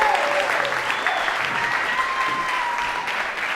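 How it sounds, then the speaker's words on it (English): A theatre audience at a one-man play claps in a sustained, even round of applause that fades slightly, with a few whoops and voices mixed in. "Give a round of applause to y'all for coming out, man."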